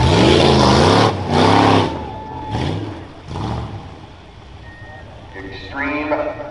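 A stock-class rough truck at the 2021 Hartford fair revs its engine hard in rising and falling bursts before the jumps, loud and close, with an announcer talking over it.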